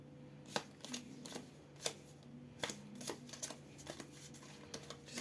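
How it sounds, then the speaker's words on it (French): Lenormand cards being handled as excess cards are removed from the deck: faint, quiet taps and flicks of cardboard in an irregular rhythm, close by with no talking. "j'enlève l'excès de cartes"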